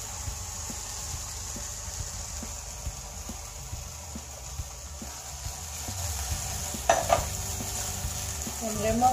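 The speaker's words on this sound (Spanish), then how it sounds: "Ahora agregaremos lo que es la naranjita ya bien molida. Agregaremos a nuestro sartén" Ground sour oranges hitting a hot frying pan, a low steady sizzle with faint regular ticking, then a brief burst of spoon-on-pan scraping and clinks near the end.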